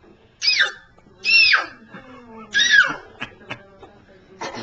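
A young child screams and wails indoors on Christmas Eve, three loud, high cries in quick succession, followed by softer sobs and small sounds.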